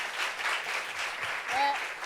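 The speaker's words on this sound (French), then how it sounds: "Applaudissements pour cette" Brief burst of audience applause at a talk-show style discussion gathering, steady clapping throughout with a faint voice rising briefly near the end.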